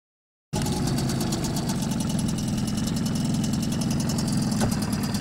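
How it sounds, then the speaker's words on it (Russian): A small Yamaha 3 hp outboard boat motor starts up abruptly and runs at a steady, close, buzzing idle, its rapid even pulse continuing to the end. "двигатель является полноценным лодочным мотором без всяких каких-то компромиссов"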